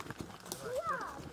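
Privately owned horses hired for rides on an autumn mountain hike in the Caucasus near Psebay clop along with quick hoof strikes, one horse giving a short whinny, while people talk nearby.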